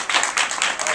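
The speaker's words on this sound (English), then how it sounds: "Give him a nice round of applause." A studio audience at a children's camp telethon breaks into steady applause, dense clapping rising and falling in waves throughout.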